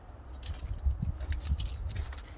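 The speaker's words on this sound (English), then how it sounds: "Trying to get the keys in my pocket." Keys jangling as they are pushed into a pocket beside a Volvo, a close, soft clinking and rustling of fabric lasting a couple of seconds.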